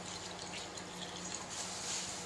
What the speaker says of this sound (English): pour the gasoline into the container